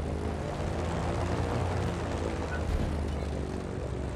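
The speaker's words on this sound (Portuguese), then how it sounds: "Nossa, é brutal esse helicóptero." A helicopter in the video game Just Cause 3 gives a steady, loud, close rotor and engine drone that holds evenly throughout, with no talking.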